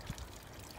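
Water trickles from a broken drainage pipe at an excavated sinkhole, a faint, continuous wash of running water heard from a short distance outdoors.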